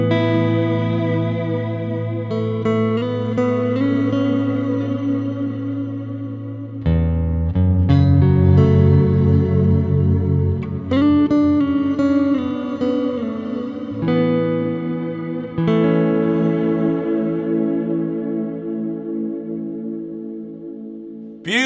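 Walrus Audio Slöer stereo ambient reverb pedal set to wide, sustained guitar chords washing into long shimmering reverb tails, notes changing every few seconds and swelling with layered chorus-like texture, loud and unbroken.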